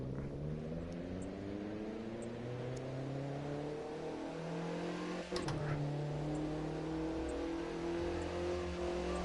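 A car engine in The Crew 2 revs and accelerates steadily, its pitch climbing through repeated gear rises and dropping briefly at a shift midway, loud and continuous without speech.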